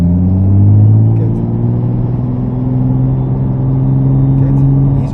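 A Nissan GT-R accelerating with the throttle held on, a loud steady engine drone with rising harmonic tones heard from inside the car.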